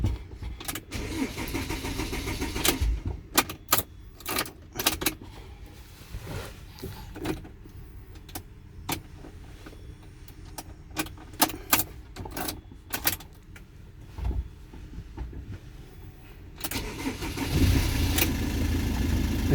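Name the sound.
Peugeot Boxer engine starting after key programming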